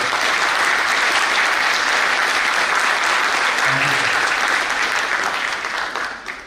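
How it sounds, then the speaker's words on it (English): Audience at a national management convention applauding the event chairman, a broad sustained round of clapping from a large crowd, loud and steady for several seconds before tapering off at the end, with a brief murmur of voices midway. "And we have a huge round of applause for the event chairman, Mr. Pangwan."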